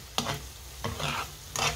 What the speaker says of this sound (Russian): Перемешиваем тоже хорошенечко.